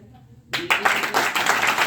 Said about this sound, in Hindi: इसको ताली हो जाए